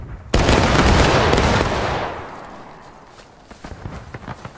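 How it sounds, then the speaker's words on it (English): Musket volley from a line of soldiers in the Civil War video game War of Rights, a sudden loud crackling blast that rolls on and fades over about two seconds, followed by scattered distant shots and movement. "3, 2, 1, fire."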